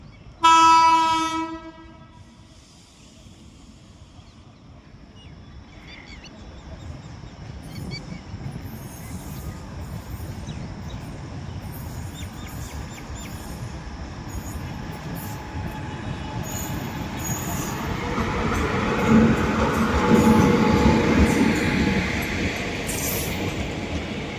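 A passing train sounds a loud, sustained horn at the start, then a steady rolling rumble of rail wheels builds and grows louder as the cars go by outdoors near the track.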